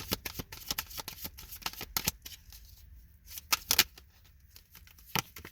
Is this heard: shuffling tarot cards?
yes